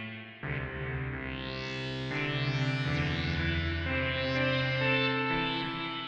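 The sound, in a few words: music with heavy reverb effect cranked up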